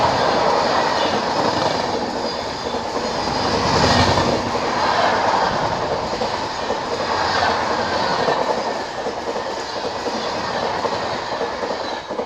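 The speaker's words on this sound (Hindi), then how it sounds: "यह जोगबनी आनंद विहार सीमांचल एक्सप्रेस" Jogbani–Anand Vihar Seemanchal Express rolling past at a railway crossing, a steady loud rumble of wheels and carriages with faint clickety-clack and brief squeals, continuous and close throughout.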